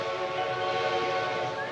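A steam train's whistle sounds as the train pulls into a small Old West station, a steady sustained tone held throughout at moderate distance.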